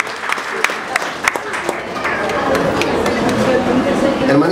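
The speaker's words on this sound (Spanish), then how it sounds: "¡Aplausos!" A crowd at a business-centre testimonial event breaks into applause: scattered sharp claps at first, then a fuller continuous clapping wash, with voices talking underneath.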